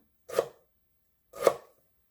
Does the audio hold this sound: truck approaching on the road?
no